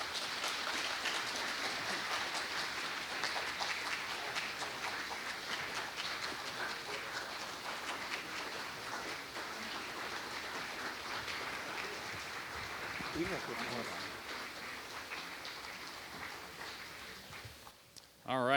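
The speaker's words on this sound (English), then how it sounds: "Let's have another round of applause for Major Sally." An audience at a Veterans Day ceremony applauds in a steady, dense patter that runs on for a long stretch at moderate distance, fading out near the end.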